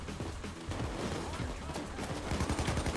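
Rapid, dense gunfire from the video game PayDay 2 during a bank heist, steady and continuous for a few seconds at moderate loudness, with voices talking faintly underneath.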